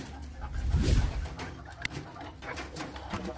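Young chukar partridge chicks in an aviary give soft cooing calls over a low background murmur, with one brief sharp tick in the middle.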